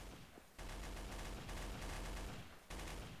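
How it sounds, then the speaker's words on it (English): Rapid video game gunfire crackles in dense bursts, a near-continuous volley of shots broken by two short gaps, loud and close with no talking over it. "All I can hear is gunshots."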